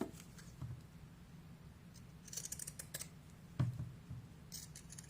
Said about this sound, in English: We can use our pinking shears.